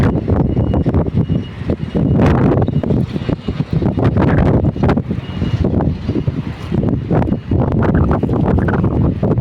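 Strong wind buffets the microphone outdoors on a fishing outing, a steady loud roar with gusty surges and rumbling low-end thumps running through the whole stretch.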